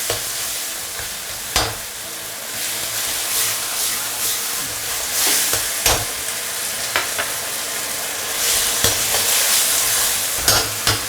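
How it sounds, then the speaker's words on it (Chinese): Food stir-fried in a wok over a modest home burner: a steady close sizzle with repeated scraping clicks of the spatula striking the pan at irregular intervals, and no talking. "就多给它炒一下，炒久一点点，实在不行就炒久一点"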